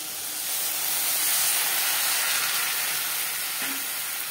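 Water added to a hot pan of spices, onions and tomatoes sets off a loud, steady hiss and sizzle of steam. It holds throughout with no talk.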